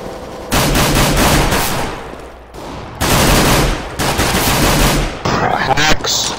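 Rapid automatic-rifle sprays in a CS:GO competitive match, loud, close bursts of dense gunfire that pause briefly and resume, with short gaps near the end.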